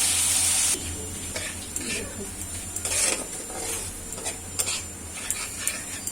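Masala with green chilli paste being stir-fried in a pan, a spatula scraping and clinking in irregular strokes over a low sizzle, close and fairly clear, with a voice talking faintly at times.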